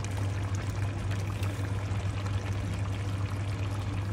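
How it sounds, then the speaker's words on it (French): Green vegetables sautéing and being stirred in a pan give a steady, close sizzle with faint scraping, continuous and even throughout with no talk. "Et on va remettre tout bien mélanger."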